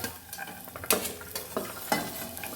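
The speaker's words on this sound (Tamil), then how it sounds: "இப்போ இஞ்சி போட்டு இஞ்சி இந்த காய் எல்லாத்தையும் ஒன்றாவே போட்டுக்கணும்" Clattering stirs and scrapes in a pot as ginger and vegetables are added for egg vegetable soup, with a light sizzle underneath, a few sharper knocks standing out, no voices.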